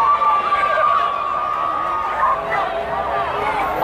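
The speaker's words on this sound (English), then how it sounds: "the crowd is going nuts" A crowd lines the street at a July 4th parade in Loveland, Ohio, giving a steady, dense roar of cheering and chatter, with a thin whistle-like tone running through it throughout.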